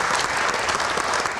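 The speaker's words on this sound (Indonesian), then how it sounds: "Tepuk tangan untuk rekan-rekan mahasiswa yang hadir di studio." A studio audience claps for visiting university students on a television Q&A set, a full, steady burst of many hands at constant loudness with no talking over it.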